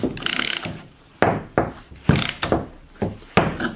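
A ratchet mechanism clicks in several short, sharp bursts while a milling bit is tightened in a drill press chuck, loud and close with brief pauses between strokes.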